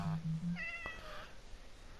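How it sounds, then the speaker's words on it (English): A cat meows once in Minecraft, a short rising-falling call heard clearly over a low droning hum and a brief game click. "the cat is inside."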